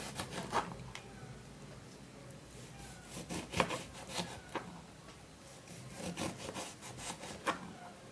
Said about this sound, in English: We're just going to be peeling the lemon.